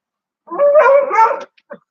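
Dogs vocalize in one sustained, howling bark-like burst lasting about a second, loud and close, followed by a short sharp yip; no talking.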